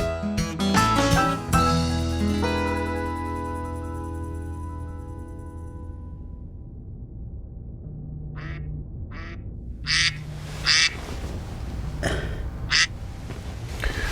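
Ducks quack in a few short bursts, some loud and close, following a fading resonant ringing, during a duck hunt in Arkansas timber.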